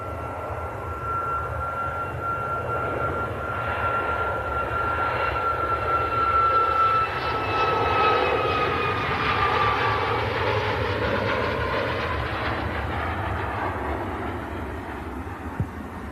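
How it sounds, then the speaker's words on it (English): A TUI Boeing 737 MAX 8 departing Manchester Airport, its jet engines roaring as a broad, sustained rumble with a rising whine that swells and slowly fades over the whole stretch, heard from a distance with no talk. "TUI-737 MAX 8 departing there."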